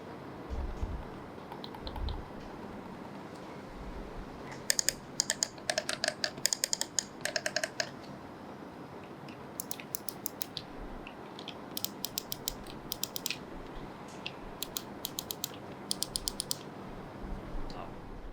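Sharp clicks from the Omron mechanical switches on a Mobapad M6HD controller for Nintendo Switch, arriving in rapid bursts of presses separated by short pauses over faint room hum, close and crisp with no talking.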